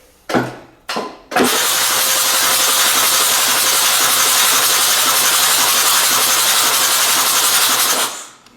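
An 80-year-old engine, primed by hand, coughs twice then catches and runs steadily at a loud, even, hissing roar for about seven seconds before cutting out.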